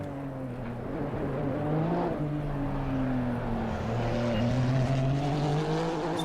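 Steady, continuous drone of a GT3 race car engine in Assetto Corsa Competizione at Zandvoort, wet conditions, with shifting harmonic pitch as revs rise and fall over six seconds, loud and uninterrupted, no talking.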